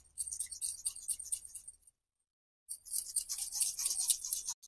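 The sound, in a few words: grating a whole lemon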